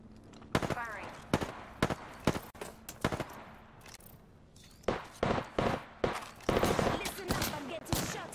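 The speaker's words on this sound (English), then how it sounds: "Listen up, I'm getting shot at." Rapid gunfire in the battle royale game Apex Legends, sharp loud bursts and single cracks in quick irregular volleys, close by, with a few quieter gaps between the clusters and faint voices in the background.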